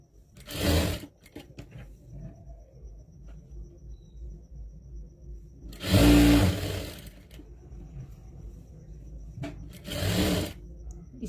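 A sewing machine stitches a crop top neckline in three short, loud bursts of rapid whirring separated by quiet gaps.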